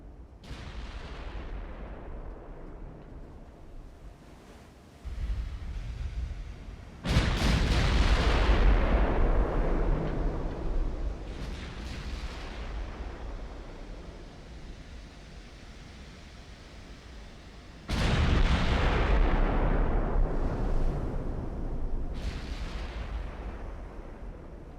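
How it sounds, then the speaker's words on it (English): Warship guns fire in a naval battle in the Ultimate Admiral: Dreadnoughts game. Several heavy booming salvos punch in a few seconds apart and roll off into long rumbling decays over a constant hiss, with no talking. "Now see the flash from her guns."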